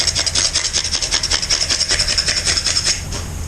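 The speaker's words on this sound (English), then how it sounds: "I just took a piece of drywall and just scraped it over." A piece of drywall is scraped repeatedly over a surface to dust it with powder, giving a fast rhythmic rasping like grating cheese, close and bright, about a dozen quick strokes.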